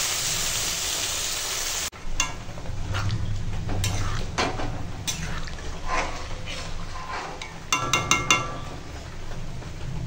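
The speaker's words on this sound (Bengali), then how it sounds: "এখন মশলাতে ঘুগনিটা ঢেলে দিলাম" Boiled peas for ghugni tipped into hot spices in a pan, a soft wet slide and sizzle with scattered clinks of a spoon against the metal pan, close by and steady throughout.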